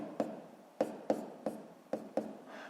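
An asterisk is drawn by hand on paper in six short, close scratchy strokes with small pauses between them, each a quick tap-and-scrape, with a faint softer stroke at the end.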